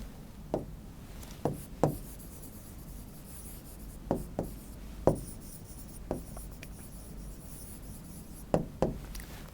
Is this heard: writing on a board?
yes